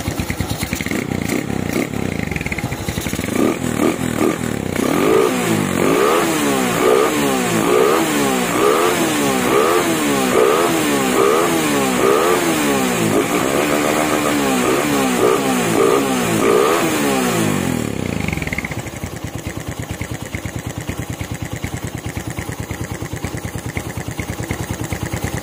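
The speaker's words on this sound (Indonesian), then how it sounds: "Oke, ini starter langsung hidup, langsam juga stabil." Motorcycle engine fitted with a PWK 35 carburetor, heard up close as it starts, revs up and down rhythmically for about fifteen seconds, then drops to a steady, loud idle.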